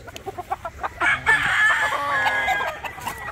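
Brood stag roosters crow loudly and close by while others cluck in short bursts around them, with several overlapping calls and no talking.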